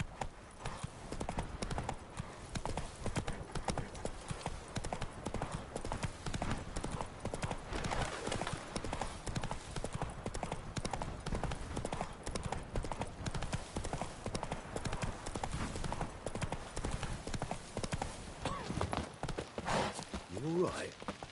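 Geralt's horse Roach gallops in The Witcher 3, with continuous rapid hoofbeats close and loud over a dense game soundscape. Speech sits underneath.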